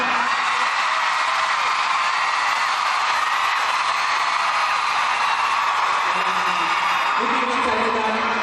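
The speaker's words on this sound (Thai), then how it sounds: "ขอเสียงกรี๊ดแบบไร้เหตุผลสักหนึ่งครั้งได้ไหมฮะ" A large crowd screams together in a sustained, high-pitched roar that fills the space, loud and continuous, with a few voices standing out near the end.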